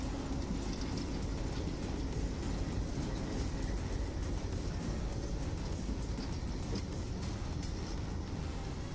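Steady, loud rumble of a train rolling along, a dense continuous roar of wheels and engine with no clear breaks, close by.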